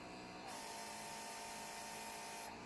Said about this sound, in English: It's a quick spray.